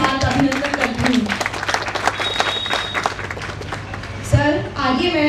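An audience at a Hindi-language homeopathy awareness event on anemia, aplastic anaemia, sickle cell and thalassemia applauds steadily for several seconds. The clapping carries on under a voice and a low hum, with a brief louder burst near the end.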